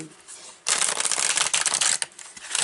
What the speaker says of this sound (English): let's start taking some cards here